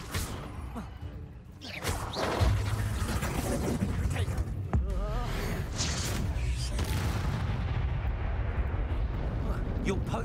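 Explosive Bombarda and Confringo spells cast in Hogwarts Legacy combat: bursts and crashing booms with whooshing magic over continuous game noise and music, while someone talks over the action.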